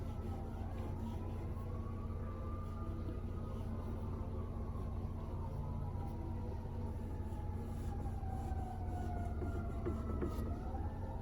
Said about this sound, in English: So we have lots of sirens.